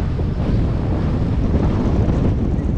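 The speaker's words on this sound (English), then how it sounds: "You probably can't hear a single thing we're saying, but it's windy." Strong, gusty wind at a theme park buffeting the microphone, a loud low rumble that roars steadily throughout with no voices audible.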